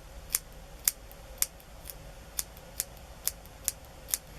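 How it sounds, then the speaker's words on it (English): Scissors snip through a doll's synthetic hair, about ten sharp crisp clicks at a slow uneven pace, close and alone over a quiet background. "You can do blunt ends, meaning you can just cut straight across"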